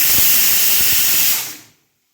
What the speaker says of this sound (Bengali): আর এখানে ডাল সেদ্ধ হচ্ছে।